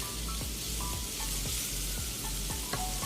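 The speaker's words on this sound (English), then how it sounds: "Get it all mixed in." A flour roux stirred into sausage gravy in a hot pan sizzles steadily and up close, with the spoon scraping the pan about every half second in a regular rhythm, and no voices.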